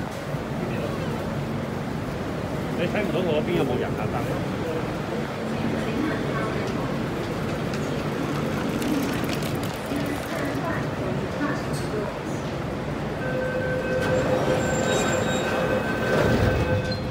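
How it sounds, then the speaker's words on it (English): A metro train pulls away from a platform at Lai King station in Hong Kong, a steady close rumble of wheels and motors building and fading over several seconds, with a voice talking over it. "Surprisingly, actually, this train leaves very quickly."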